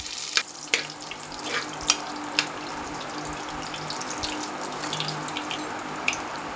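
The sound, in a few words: cloves, cardamom, fennel, bay leaves frying in oil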